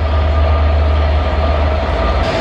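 Class 67 locomotive 67017 hauling Mark 4 coaches on the North Wales line between Colwyn Bay and Flint, producing a loud, close, steady low engine drone and rumble that continues unbroken throughout.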